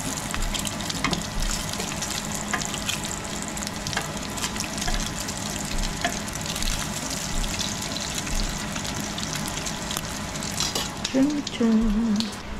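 Bacon fries in a pan at a home breakfast stove, a dense continuous sizzle and crackle close by, with a brief hum of voice near the end.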